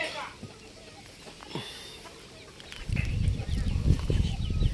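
Young fighting cocks around four or five months old, just taken from their pen, give a few soft clucks and chirps at first. Someone talks nearby, then a louder burst of rustling and scuffling noise takes over toward the end.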